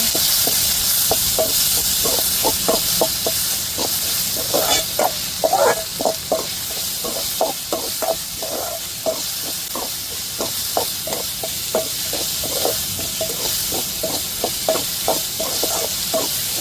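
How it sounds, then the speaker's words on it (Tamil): Ginger and garlic with green chillies sautéing in hot oil while a crab dish is cooked, a steady sizzle and hum under quick, regular scraping ticks of a spoon stirring the pan, close and continuous with no talk. "நல்லா இஞ்சி பூண்டு பச்சை வாடை மாறணுங்க நல்லா வதக்கி விட்டுருவோம்"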